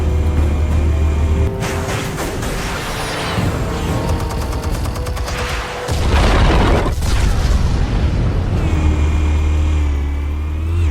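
Explosives detonate in the Batman Telltale Series game, a loud, sustained roar of booms and crackling blasts with a deep low rumble that surges again midway and stays dense throughout, no talking.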